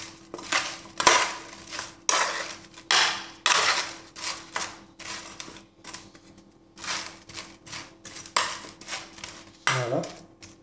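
Seasoned potato pieces being stirred in a bowl for homemade fries, heard as a quick series of close, dry clattering scrapes and knocks in an irregular rhythm, with a brief voice near the end.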